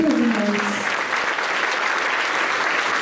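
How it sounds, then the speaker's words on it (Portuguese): A church congregation applauding together: steady, dense clapping from a crowd in a room, loud and continuous for a few seconds, with a brief voice at the very start. "Vamos aplaudir o Senhor Jesus, irmãos."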